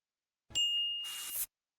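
A single bright notification bell ding rings out alone, a clean sustained chime with a short tail, followed by a brief shimmering swoosh before cutting to silence.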